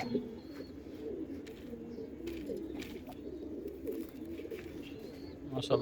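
Pigeons of a collector's breed coo in repeated low rolling calls, close by, with faint background sounds between the phrases.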